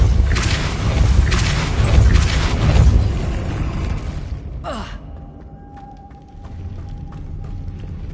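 A spell blast from the Depulso force charm in the Hogwarts Legacy video game: a loud rumbling burst that fades, followed by a short swooping whoosh and a quieter tail with faint tones.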